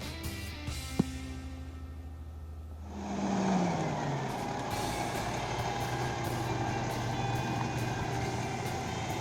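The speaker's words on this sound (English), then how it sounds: "The collection truck arrives to pick up the recycling." A recycling collection truck pulls up at the curb with a rising engine roar and a hiss partway through, then settles into a loud, steady diesel rumble with faint beeping nearby.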